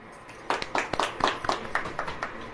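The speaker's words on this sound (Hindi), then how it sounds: "ताली बजाएं।" A church congregation claps their hands at a sermon, sharp claps landing in a fairly regular rhythm of about two per second, close and clear with a slightly uneven tail.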